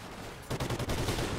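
A quick burst of rapid gunshots from Call of Duty Ghosts, starting after a brief lull of ambient noise and then cracking in a tight, loud, repeated rhythm.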